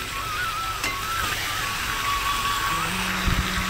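Meat stir-fried for kosha in a pan sizzles steadily, with faint scraping and a few clunks near the end.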